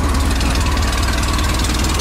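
A small air-cooled VW Type 3 engine running at a steady idle close by, a loud, even chugging rumble with a rapid rhythmic beat, no speech.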